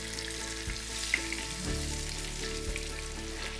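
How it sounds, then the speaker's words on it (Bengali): Brinjal (eggplant) pieces shallow-fry in hot oil for Bengali begun basanti, giving a steady, even crackling sizzle with a low background hum and a few faint clinks, with no speech. "চারিপাশটা ভালো করে লাল করে আগে ভেজে নেব"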